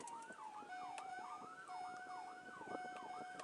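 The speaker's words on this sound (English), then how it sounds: "It's like there's sirens and cars." Police sirens in the OnlyCops video game wail in rising and falling sweeps with a steady tone underneath, faint and distant under low background noise.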